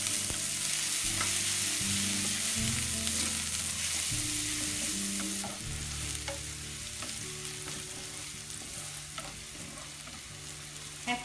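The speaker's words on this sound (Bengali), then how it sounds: "রসুন কুচি, পেঁয়াজ কুচি এবং রসুন কুচি দিয়ে কিছুক্ষণ ভাজতে হবে।" Chopped onion and garlic sizzle in hot oil in a frying pan, a continuous moderate hiss with the occasional clink and scrape of stirring and a low hum underneath, no voices.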